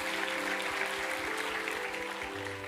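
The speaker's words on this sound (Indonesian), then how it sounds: "Berikan tepuk tangan kita untuk Tuhan kita." Congregation applauding during a Christian church sermon, a steady wash of clapping held at an even level throughout, with organ or keyboard tones sustained underneath.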